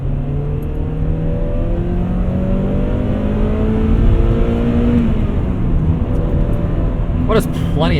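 A 2000 Honda Prelude's engine drones steadily and climbs in revs, rising harmonics sweeping upward through a long pull on a damp road, with talk over the engine.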